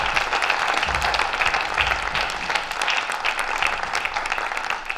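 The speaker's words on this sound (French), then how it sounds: "je voudrais que l'ensemble de la salle applaudisse les équipes qui ont travaillé sur la qualité de la réflexion" A hall audience at a climate conference applauds the teams with sustained, even clapping that stays full and steady throughout.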